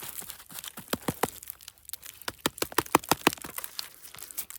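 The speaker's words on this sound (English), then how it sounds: "It has some animal damage on it, so I'll use my knife to cut that off." A knife cuts animal-damaged parts off a freshly picked wild mushroom during fall foraging in Napa, California, giving a run of close, crisp scraping and tearing crunches in irregular bursts.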